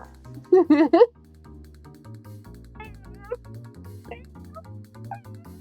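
A human voice imitates a cat, giving a quick burst of about five high-pitched meows up front, followed by quieter scattered vocal sounds over soft background music.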